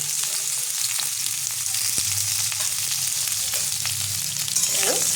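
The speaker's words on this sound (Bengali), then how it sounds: "এটা আমি হালকা লাল করে ভেজে নেব।" Sweet pumpkin and tikli fry in a pan for a Bengali-style kalia, giving a steady close crackling sizzle with a few soft stirring scrapes and no talking.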